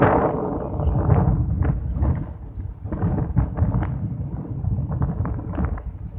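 Strong wind buffets a tandem paragliding flight, a continuous loud rumbling roar with gusty thumps close to the microphone throughout.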